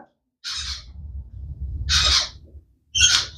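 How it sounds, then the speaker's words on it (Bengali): An African grey parrot chick gives three harsh, raspy squawks, close and loud, separated by short silences, with a low rumble beneath each call. "এটা হচ্ছে আফ্রিকান গ্রে প্যারট"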